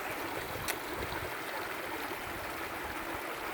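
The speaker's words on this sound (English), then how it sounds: "The beavers have the water level so high that it's just pouring over the edges of this rock wall." Water pours over the edges of a rock wall at a high beaver dam, a steady, faint outdoor rush of stream flow that continues evenly throughout with no voices.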